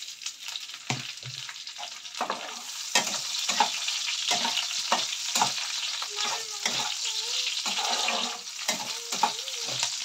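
Green chillies and onions frying in a pan for a bitter gourd dish, a steady close sizzle broken by repeated scraping stirs, with no talking.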